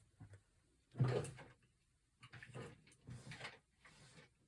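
Clattering and knocking of objects being shifted around in a drawer, a few bursts of rummaging close by with short pauses between.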